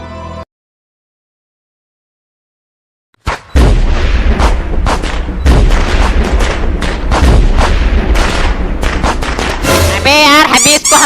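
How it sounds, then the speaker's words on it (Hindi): A rapid, loud string of firecracker bangs and crackles follows a few seconds of silence, with faint voices mixed in among the blasts, on Diwali. "चलो दगाया जाए पटाखा"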